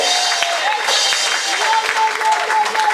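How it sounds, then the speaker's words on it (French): A church congregation applauds steadily and loudly throughout, a dense continuous wash of clapping with crowd voices mixed in. "Acclame Jésus-Christ"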